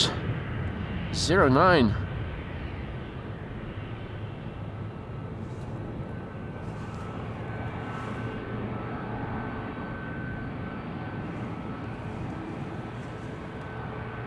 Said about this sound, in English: KLM Flight 605 lining up.